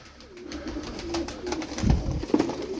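Turkish tumbler pigeons coo nearby in soft, low, throaty rolls, with a couple of fuller coos near the end over faint background noise.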